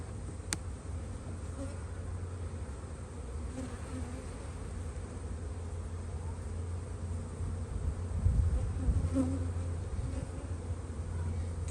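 Honeybees in an open hive during a spring inspection hum in a steady, close drone that holds unbroken throughout and swells slightly near the end, with no voices.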